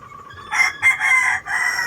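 A 10-month-old rooster crows up close, one loud strident call broken into a few bursts, alone with no talk over it.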